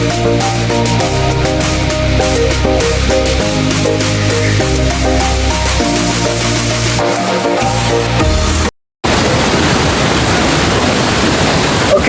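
The Hidden Falls waterfall, a steady loud roar of rushing water heard up close, broken by a brief cut, with music-like tonal layers over the first part.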